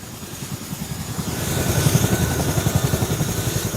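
Combat helicopter rotor thumping close by, a rapid rhythmic chop with a turbine whine above that swells louder midway and stays prominent.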